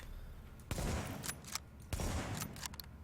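A sniper rifle fires in the video game The Division: two sharp, loud reports about a second apart, each followed by shorter echoing crackles, over a steady background hum.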